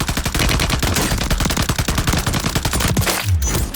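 Rapid automatic gunfire in bursts from the video game Warzone, loud and close, with dense repeated cracks that stop abruptly near the end.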